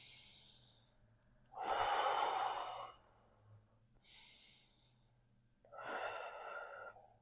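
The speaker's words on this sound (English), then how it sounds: "Let's take a couple of breaths here." Deep breaths during a home yoga session for bone strength: three slow, close airy exhalations and inhalations with audible breathy hiss, separated by quiet pauses over a faint background hum, with no speech.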